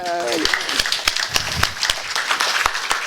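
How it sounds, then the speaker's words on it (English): An audience in a hall applauds itself, with scattered sharp claps standing out over a steady ripple of clapping after a brief voice at the start. "Give yourself a round of applause."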